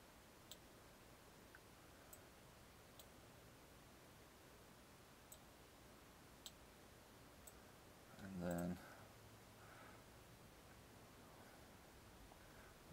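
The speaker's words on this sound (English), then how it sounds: "All I'm doing is clicking and dragging on the lines here." A computer mouse clicks now and then while dragging lines in FreeCAD 0.18. The clicks are sparse, soft and irregular over a quiet background, with a brief low thump midway.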